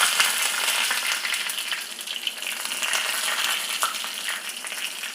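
Mustard seeds and curry leaves fry in hot oil with a steady, fairly loud crackling sizzle and scattered small pops, continuous throughout with no talking.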